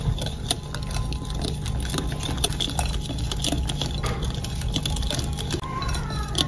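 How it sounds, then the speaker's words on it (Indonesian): Cocoa powder is stirred into a batter mixture in a bowl, giving a steady, close scraping and pattering with irregular clicks and no speech. "Diaduk-aduk hingga tercampur."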